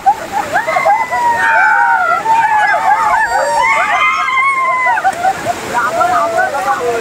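A flooded river flows fast and full, making a loud, steady rush of water with splashing throughout, while voices call out over the roar.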